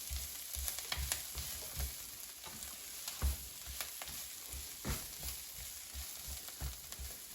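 Cabbage with bacon fries in a pan and is stirred, giving a soft, even sizzle broken by regular low thumps and scrapes from the spoon.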